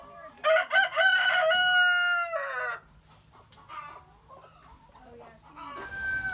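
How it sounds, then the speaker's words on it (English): White Cochin chicken clucking and calling nearby, a loud drawn-out cry followed by softer scattered clucks, with faint background hum. "She is a white Cochin chicken."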